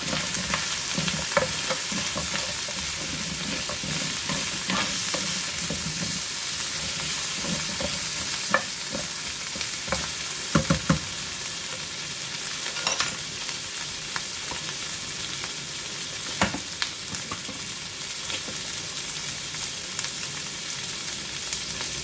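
Squash pieces sizzling in a pan with coconut milk stew for ginataang kalabasa at sitaw with shrimp, a continuous frying hiss with scraping stirs and occasional clinks.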